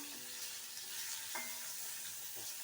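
A large onion sautés in a pan for an eggplant dahi baingan dish, giving a steady soft sizzle with occasional scraping stirs, close and even throughout.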